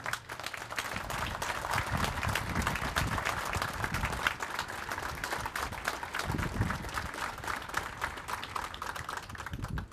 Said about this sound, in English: So I think they deserve a big round of applause.